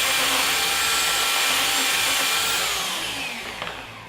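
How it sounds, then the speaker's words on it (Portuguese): An electric power sander grinds steadily against wood at close range, a loud continuous whir that tapers off near the end. "Vocês vão ver a rapidez que é de lixar com essas lixas."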